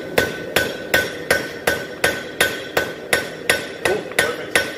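A blacksmith's hammer strikes hot metal on an anvil in an even, steady rhythm, about a dozen sharp ringing blows, close and loud, with no talk.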